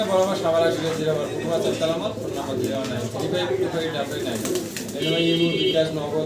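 Two pairs of running pigeons coo repeatedly in low, soft bursts under a steady layer of background talk and farmyard noise.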